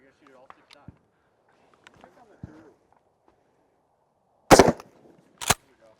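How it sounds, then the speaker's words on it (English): Two loud, sharp shotgun blasts fired at a paper target on an outdoor range, the second following about a second after the first, each standing out strongly over faint murmuring voices. "I'm going to shoot at the numbers in the stomach of that target"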